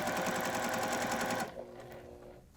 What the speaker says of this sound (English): I'm going to sew all of that side of the triangle onto the square first.